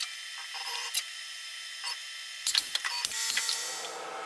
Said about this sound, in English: I just loaded that reamer number 33 into the spindle.